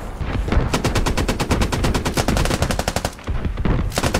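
Rapid automatic gunfire in the military shooter Squad, a dense run of sharp repeated shots in long bursts, loud and close, with brief pauses between volleys and no talk.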